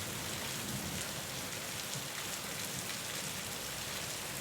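Steady, dense rain pours down on surfaces, a continuous loud hiss with no pauses and no talking.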